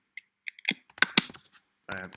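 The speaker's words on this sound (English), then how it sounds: "just typing here" Scattered keystrokes on a computer keyboard, a few sharp clicks then a quick cluster of taps, close and dry, with a brief burst of voice at the end.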